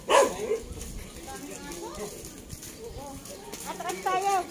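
Dogs bark off and on, a sharp bark at the start and more later, mixed with people talking nearby.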